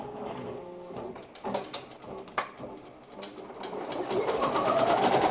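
A Ricoma Creator embroidery machine starts stitching text on fabric, first making a few clicks and mechanical clunks, then building into a steady, fast, whirring stitch rhythm that is close and fairly loud.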